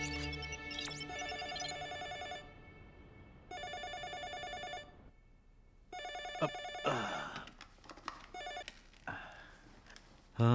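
A telephone rings in repeated bursts of an electronic ringing tone, about three separated rings over ten seconds, fairly loud and close, followed by brief handling sounds and a pickup click with no talk.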